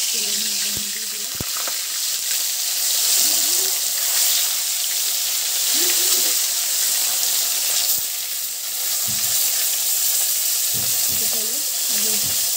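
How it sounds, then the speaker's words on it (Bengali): Tilapia pieces fry in hot oil, filling the clip with a steady, loud crackling sizzle, with a few brief clanks and scraping sounds from a utensil in the pan. "তো এবার একটা একটা করে আমি মাছগুলো ভেজে নেব। তো চলো দেখো, তেলের মধ্যে আমি দিয়ে দিলাম"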